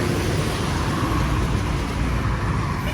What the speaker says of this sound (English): a lot of traffic up here